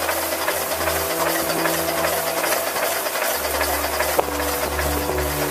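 Steady mechanical chugging of a steam canal boat's engine with a continuous hiss of steam venting up the chimney, loud and close, running without a break, at a canal boat rally in Coventry.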